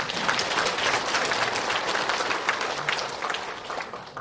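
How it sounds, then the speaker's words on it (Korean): Warm applause from a Korean church congregation honouring the choir and orchestra at a year-end service, many hands clapping steadily with slight swells, close and full. "다시 한번 감사와 영광의 박수를 드리겠습니다"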